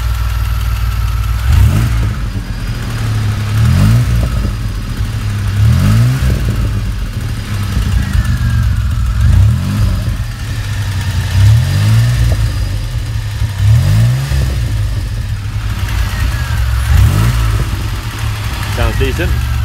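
A DeLorean fitted with a sports exhaust rumbles at idle, with a series of short throttle blips rising and falling every couple of seconds, close and steady throughout.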